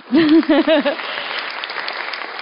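Clapping from a crowd at a public meeting in Bordeaux swells up and carries on steadily, with a voice speaking briefly over the start.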